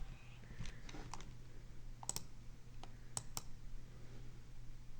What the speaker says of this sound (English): See if I can type right.